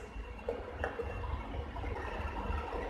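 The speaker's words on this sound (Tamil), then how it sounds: "இதுலயே தேவையான அளவுக்கு தண்ணி சேர்த்தி இந்த தண்ணியை இதுல விட்டுலாம்" Water poured into a pot of brinjal theeyal curry with coconut, a steady soft splashing and gurgle that runs the whole time, close and even, with no voice.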